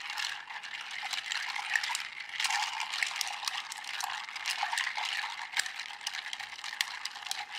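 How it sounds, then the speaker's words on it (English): Ice stirred in a mixing glass for a Russell's Reserve 10 Year bourbon cocktail, a continuous close jingling rattle of cubes against glass, steady and fairly loud with no voices. "You want to stir it to the point that you get maybe a little bit of a frost, a cooling on the side of the mixing glass"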